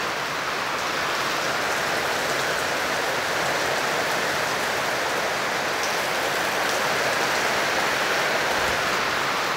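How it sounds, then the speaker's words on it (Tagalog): Steady afternoon rain in South Cotabato, Mindanao, Philippines, a dense, continuous patter and hiss of drops on surfaces, loud and close, unbroken for the whole stretch with no voices. "gusto ko lang i-vlog ang ulan"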